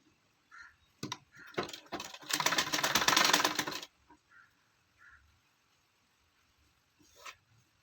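A sewing machine stitches a child's gown in a short burst of rapid, rattling stitches lasting about a second and a half. Scattered fabric-handling clicks come before and after in a quiet room.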